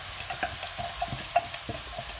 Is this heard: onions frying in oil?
yes